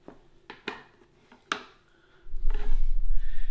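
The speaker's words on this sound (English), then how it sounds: "So I'm going to flip them out of the pan." Fried eggs flipped out of a pan onto bread for a sandwich: a few sharp clinks and scrapes of utensil against the pan, then a louder rumbling, rustling slide as the eggs drop onto the bread.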